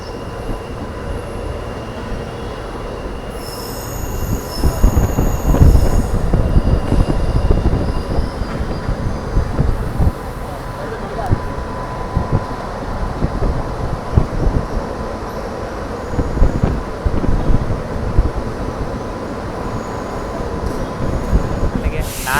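A Bangalore to Channapatna passenger train rolls steadily along the rails with a loud continuous rumble and rhythmic clatter, a faint high squeal now and then, heard from close by.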